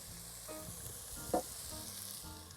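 Red onions, garlic, chilli and ginger sizzle in oil in a pan, a steady close frying hiss with a few soft stirring clicks, no voices.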